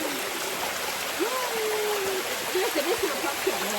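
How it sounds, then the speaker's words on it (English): Christian Valley waterfall pours with a steady, broad rush of water, close and loud, while a voice speaks briefly over it near the end. "Are we chasing the waterfall?"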